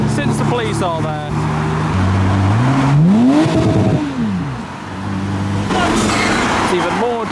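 Cars, some modified and German, rev and accelerate as they roll into a Japanese car meet in Reading, with engine tones rising and falling nearby and people talking over the noise.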